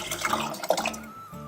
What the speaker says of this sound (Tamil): இப்போ இந்த தோரம்பருப்பு நான் வேக வச்சிருக்கிறது தக்காளியோட, அதையும் இதுல ஆட் பண்ணிக்கிறேன்.